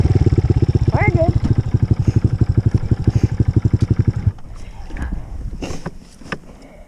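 A dirt bike engine rides through snow, its single-cylinder-like beat pulsing fast and close for about four seconds before cutting back to a low idle and scattered rustling.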